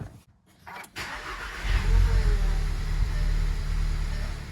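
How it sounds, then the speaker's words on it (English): A Volkswagen GTI engine cranks briefly and catches, then settles into a steady low rumble that continues to the end. "We're gonna go ahead and start the car."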